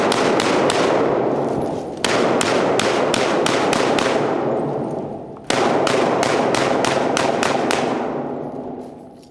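Rapid strings of rifle shots from a Sig M7 Spear or M4 at a shooting range, loud and close, in three bursts of about five to seven cracks each with reverberant tails between.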